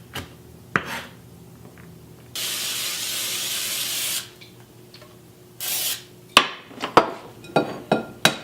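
Carrots, celery and onion sizzle in a pan for a breakfast dish, a loud hissing burst followed by a shorter one, with sharp knocks of chopping and clatter between and after them.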